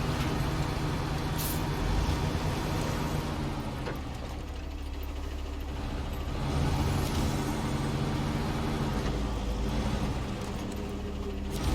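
A SnowRunner truck engine runs at a steady, loud idle for several seconds, broken by a few sharp air-brake hisses. No one speaks.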